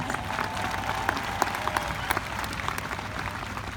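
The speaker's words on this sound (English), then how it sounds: "we ought to give them a big round of applause" A commencement audience at North Carolina Central University applauds steadily for the professors, a dense wash of many hands clapping throughout, with a few sharper claps standing out, moderately loud and alone without speech.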